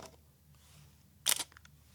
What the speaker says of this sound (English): the one downside that comes mind to first is the sound of the shutter